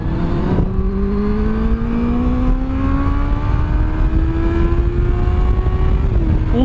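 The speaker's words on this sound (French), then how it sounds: "Je vais prendre l'autoroute pour faire une petite accélération quand même." Honda CB650F motorcycle accelerating hard on a motorway, its engine tone rising steadily in pitch as the revs climb, loud and close, with a brief shift near the end.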